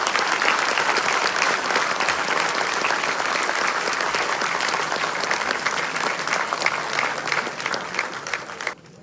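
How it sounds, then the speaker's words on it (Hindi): An audience at a CSS Day 2023 celebration in New Delhi's Ambedkar International Centre applauds, loud sustained clapping from a full hall lasting several seconds before cutting off abruptly. "अब एक बार तालियां हो जाए दोबारा से।"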